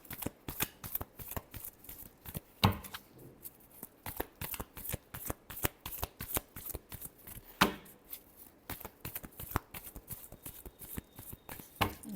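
Tarot cards are shuffled by hand in quick, rapid riffles and flicks, a dense run of crisp papery slaps close up, with a couple of sharper snaps along the way.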